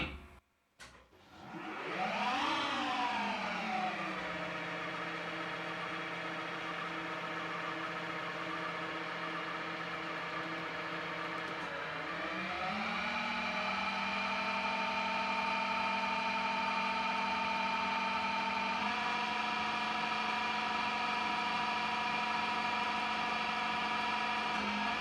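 A Schaublin lathe spindle spins up after a shift to high gear, a rising whine that settles into a steady, loud mechanical hum, then climbs again to a higher, even tone with no talking over it.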